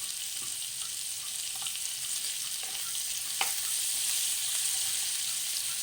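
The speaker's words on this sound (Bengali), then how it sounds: "তাই পেঁয়াজটাকে সামান্য একটুখানি সময় লাড়বো, যাতে পেঁয়াজের কাঁচাপনটা চলে যায়" Chopped onion with butter and minced ginger sizzles steadily while being stirred in a pan for paneer with spinach, a continuous frying hiss with a few soft scraping clicks, moderately close and without talk.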